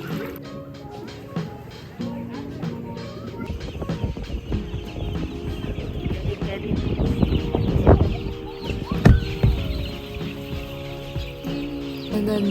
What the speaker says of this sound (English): we're back at the farmhouse with the chickens